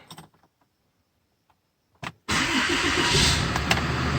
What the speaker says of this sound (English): And it fired right up. See? It fired almost instantly.